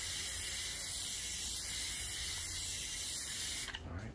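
An airless paint sprayer hisses loudly and continuously as interior paint is sprayed across a surface, then cuts off abruptly near the end.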